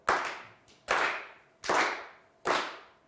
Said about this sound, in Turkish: hevesle üzgün alkış vuruyor sevgili izleyenler